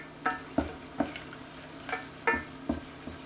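A spoon stirs flour into beef bone gravy, knocking against the pan in about eight quiet, evenly spaced taps and scrapes over a faint background hum.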